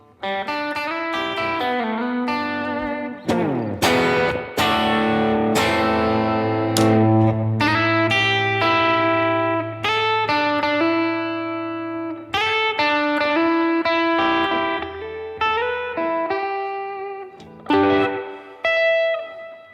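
A distorted electric guitar plays a fast, ringing solo line, its notes sustaining and trailing off into a spacious, echoing tail.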